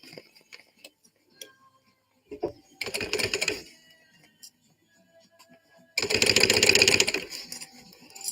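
A sewing machine runs a tacking stitch in two short bursts, about a second at 3 s and two seconds at 6 s, with quiet handling noises in between.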